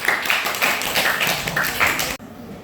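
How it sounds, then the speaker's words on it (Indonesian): Applause for students after a Grade 7A class presentation in a classroom, a steady patter of hand claps lasting about two seconds before cutting off abruptly. "kasih aplaus"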